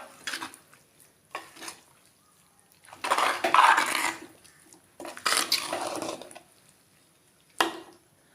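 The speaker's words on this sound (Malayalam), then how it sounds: "നന്നായിട്ട് ഇളക്കി യോജിപ്പിക്കാം." Aviyal, a Kerala mixed-vegetable curry with drumstick, green chilli and curry leaves, being stirred in a pot: bursts of scraping and clattering utensil contact come in several separated rounds, the longest in the middle. There is no talk.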